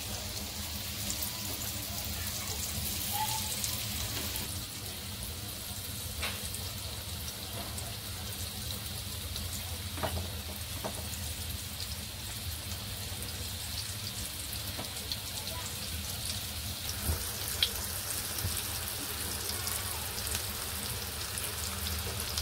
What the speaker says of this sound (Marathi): आता आपण याचे छान कुरकुरीत फ्राय करून घेऊ.